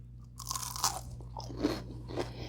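A crunchy onion bhaji, a fried Indian onion fritter, is bitten, giving several crisp, close crunches spread over a couple of seconds with no talking.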